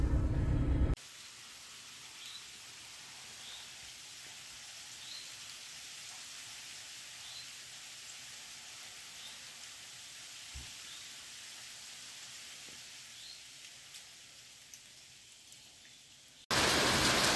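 Steady rain falls outside, a soft continuous patter and hiss with a few faint drips standing out, with no one talking.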